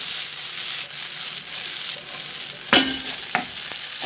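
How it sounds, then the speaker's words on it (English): Spaghetti being stirred with a fork in a pan over low heat with butter and cumin, a steady soft sizzle under a couple of distinct scraping stirs near the end. "So I'm going to use a fork to stir them"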